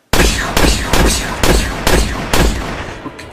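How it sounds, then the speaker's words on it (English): Five loud, close gunshots ring out in a comedic puppet short, fired at a roughly even pace with short echoing tails after each bang. "I'm gonna shoot him now."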